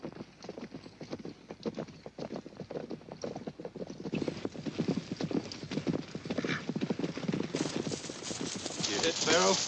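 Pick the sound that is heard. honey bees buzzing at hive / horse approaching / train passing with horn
horse approaching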